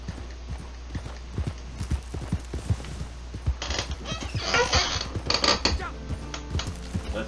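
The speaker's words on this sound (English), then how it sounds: "Come on, horse." Rhythmic clip-clop of horse hooves trotting at a steady pace in Red Dead Online, with some mechanical rattling and creaking building up partway through.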